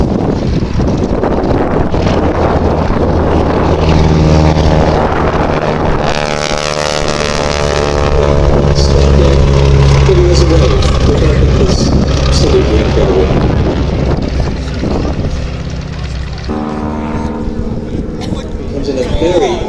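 A wingwalking display aircraft from 46 Aviation drones overhead at the Sywell Airshow in 2024, its engine pitch rising and falling through the manoeuvres under strong wind noise, while an announcer talks over it throughout.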